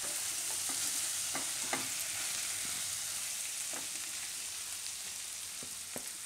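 Purple cabbage frying in oil, stirred in a pan: a steady, loud sizzle throughout, with scraping strokes of the spoon at irregular intervals and no talking.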